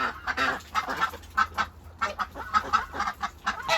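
Geese in polytunnel flock housing honking and squabbling at close range, a rapid run of harsh, overlapping nasal calls in short bursts.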